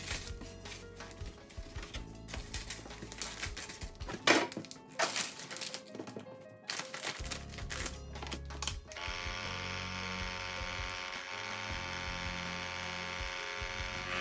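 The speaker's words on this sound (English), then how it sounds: "We place our piece in our bag to vacuum seal it." A vacuum sealer draws air from a bag holding a piece of seasoned beef for bresaola. Plastic rustles and crinkles first, then the machine's pump settles into a steady, continuous motor hum.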